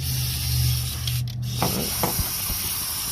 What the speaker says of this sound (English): then spray some more.